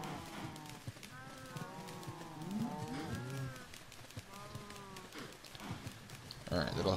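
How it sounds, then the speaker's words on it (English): Cows in the Minecraft video game low repeatedly in drawn-out, overlapping moos over a background of clopping steps, with a person talking throughout. "let's see if we can breed some cows now"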